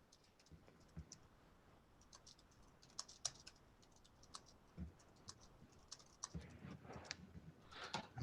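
Quick, irregular keystrokes on a computer keyboard come in short bursts and scattered single taps, fairly quiet and close, with no voices over them.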